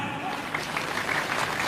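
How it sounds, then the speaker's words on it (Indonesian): Crowd applause, a thick continuous patter of many hands clapping at fairly close range, short and even in level. "Tepuk tangan."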